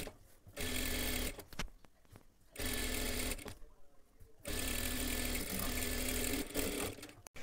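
A sewing machine stitches along the very edge of a blouse lining in three close, loud bursts separated by short pauses of handling the fabric. No one speaks.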